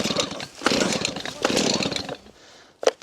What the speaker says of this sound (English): I was gonna hand you the chainsaw